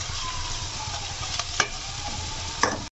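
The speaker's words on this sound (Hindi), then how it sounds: "और इसको अच्छी तरीके से भूनेंगे" Chopped bathua greens sizzle and fry in a pan while being stirred, a steady broadband hiss with a couple of sharp scraping clicks from the spoon; no talking.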